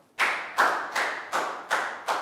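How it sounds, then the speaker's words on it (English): A classroom of Year 3 pupils gives a short round of applause for a classmate: about six distinct, evenly spaced bursts of clapping, fairly close and clear, with no talking over them. "Big round of applause for Dan."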